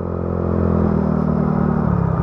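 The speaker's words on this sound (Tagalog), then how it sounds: "Hirap ang motor natin dito." A motorcycle engine labours up a steep climb on the winding Marilaque mountain road, a steady loud rumbling drone with a low harmonic hum, close by and continuous with no talk.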